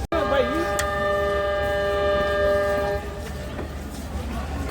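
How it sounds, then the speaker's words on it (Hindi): At Raiwind Junction railway station, a train sounds a long steady whistle for departure lasting about three seconds, loud and close, then fading into the low rumble of the train and station noise. "डिपार्चर विसल हो चुका है"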